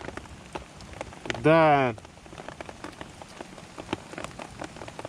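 Rain drips and patters onto a plastic sheet sheltering a solo cyclist on a road in Altai, a dense close crackle of drops throughout, briefly interrupted by a single spoken word.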